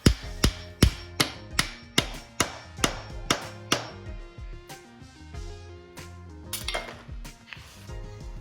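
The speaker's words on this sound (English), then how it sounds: "hammer the metal shaft back through so that it sits flush with the top of the bushing" Sharp metallic hammer blows ring out in a steady rhythm, about ten strikes, driving a metal shaft through a BMW E9X subframe bushing, then give way to lighter clanking and lingering metal resonance.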